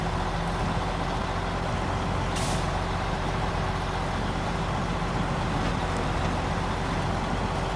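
A Mack truck in SnowRunner hauling a cement load, with a steady, loud engine drone throughout and a short sharp air-brake hiss bursting out near the middle.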